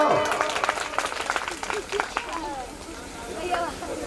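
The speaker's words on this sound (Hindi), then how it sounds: "बोले गोविंद भगवान की ताली तो बजा दे करो।" Audience clapping at a religious gathering, a dense crowd applause that runs steadily throughout at close range, with crowd murmur mixed in.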